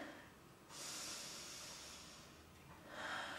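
Slow, airy breaths during a yoga sun salutation held in downward dog, a long exhale followed by a pause and another breath starting, close and soft with no talk.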